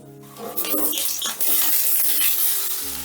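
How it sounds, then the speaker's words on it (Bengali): Potatoes dropped into hot mustard oil in a kadai, a loud close burst of bright crackling sizzle with stirring clatter, settling into a steady hiss. "তেলটা গরম হয়ে গেলে প্রথমেই আমি আলুগুলো ভেজে নেব"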